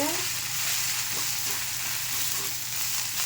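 Herbs sautéing in a pan for a homemade herbal kuzhambu: a continuous close hissing sizzle of frying with faint stirring scrapes and no speech.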